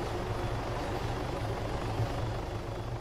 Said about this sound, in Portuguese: Ó, outro helicóptero atrás da gente.